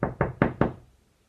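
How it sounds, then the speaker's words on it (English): Four sharp knuckle knocks on a wall at home, close and loud, the first two evenly spaced and the last two quicker, fading to silence after. "we're going to use this wall to knock and see if my phone recognizes it"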